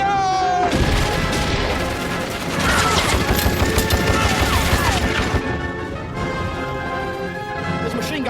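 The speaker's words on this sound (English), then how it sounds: "There's machine gun fire from the Turkish left." Sustained machine gun fire in a desert battle, dense rapid bursts mixed with explosions and crashing impacts, loud and continuous with a brief lull, shouting voices scattered through the din.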